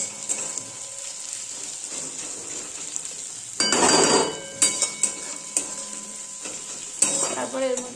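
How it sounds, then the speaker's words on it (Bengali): Onions fry in a pan with a continuous close sizzle, broken by scraping, clattering stirs from a spatula and a louder burst of hissing partway through. "এই যে আমি পেঁয়াজটা একটু ভেজে নিচ্ছি"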